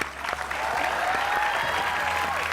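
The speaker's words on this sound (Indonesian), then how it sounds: "Tepuk tangan dulu untuk dokter" A studio audience applauding a doctor on a television talk show, dense steady clapping from a crowd, close and continuous throughout.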